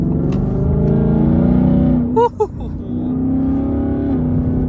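A Ford Mustang GT with a recurring check engine light rumbles with a loud, steady exhaust note that swells and settles, close by, with a brief dip near the middle.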